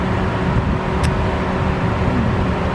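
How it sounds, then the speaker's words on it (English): A loud car beside a parked car, a continuous close engine rumble and broadband road noise with a brief faint click partway through. "that other car beside me is really loud"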